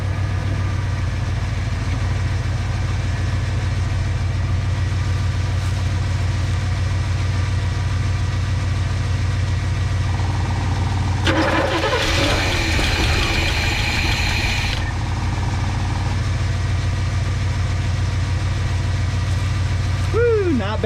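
A 1985 GMC Square Body pickup with a 454 V8 and Turbo 400 transmission idles steadily with a loud low rumble, a brief rise in noise midway through.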